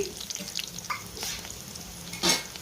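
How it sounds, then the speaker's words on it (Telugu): Onions and green chilies fry in a kadai after tempering spices, producing a close, steady sizzle broken by a few scraping stirs and a brief louder hiss near the end. "సో ముందుగా కడాయిలో తాలింపు దినుసులు వేసుకొని బాగా కొంచెం చిటపడమన్నాక ఉల్లిపాయ పచ్చిమిర్చి వేసి ఫ్రై చేసుకోవాలి"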